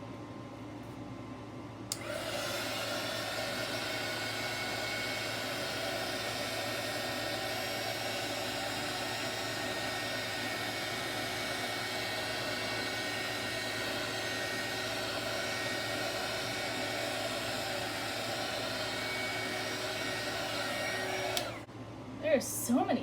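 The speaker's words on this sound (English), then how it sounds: "I'm going to go ahead and heat it again with the heat gun." A heat gun blows a continuous, fairly loud whooshing roar over resin poured on a tray, switching on after a moment and running steadily before cutting off near the end.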